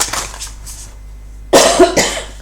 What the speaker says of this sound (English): Sorry, I'm still trying to get over this cough